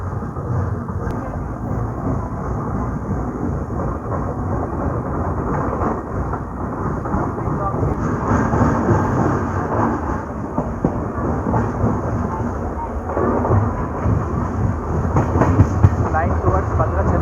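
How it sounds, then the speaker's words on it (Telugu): The 12706 Secunderabad–Guntur Intercity SF Express runs fast on the main line, a steady, loud, rumbling roar of the train in motion with faint wheel clatter throughout. "జీట్ లైన్లోకి వచ్చినాక మాత్రం ట్రైన్ భయంకరంగా పరిగెత్తడం మొదలుపెట్టింది."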